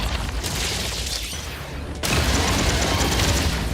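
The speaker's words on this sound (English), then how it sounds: "Yay, more explosions!" Dense, rumbling explosions fill a video game battle, with a softer stretch of crackling booms followed by a sudden louder surge of blasts and debris-like crackle that continues to the end, and no talk.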